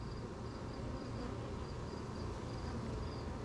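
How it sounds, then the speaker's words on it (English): Honeybees buzzing in and around an open hive, a dense steady hum of many wings close by, continuous and even with no voices. "Look at all those bees."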